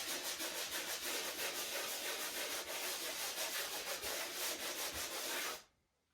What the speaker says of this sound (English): You're going to give it a final sand.